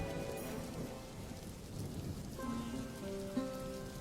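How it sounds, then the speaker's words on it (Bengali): Steady rain falls on surfaces in a flooded village setting, a soft continuous hiss with faint rumbles of thunder, and a few tonal musical notes enter toward the end. "কিছুটা বৃষ্টি কমেছে"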